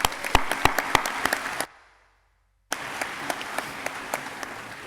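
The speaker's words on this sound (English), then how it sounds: "Another round of applause for you." Crowd applause at a high school graduation ceremony, with loud sustained clapping and sharp individual claps standing out, broken by a second of near silence before the clapping resumes.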